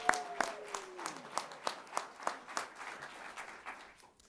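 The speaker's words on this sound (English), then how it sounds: "please join me in offering him a round of applause for his contribution" Applause at a NASA headquarters honor awards ceremony: a short round of scattered claps from an audience, moderately distant, fading out after about four seconds.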